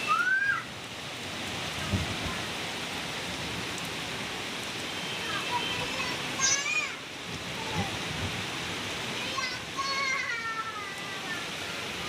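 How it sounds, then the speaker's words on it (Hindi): Heavy rain falling on a rooftop in the dark, a steady, dense hiss throughout, with a few short meow-like cries rising above it. "बहुत तेज बारिश है।"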